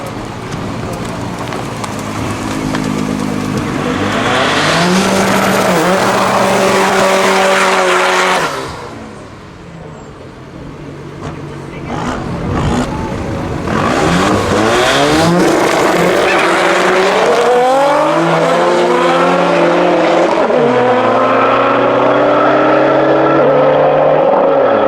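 No-prep drag race cars, a Nissan among them, roar loudly down the strip in a shootout, engines revving and shifting with tire squeal, a brief lull mid-way before another pair launches and screams away, no talk over it.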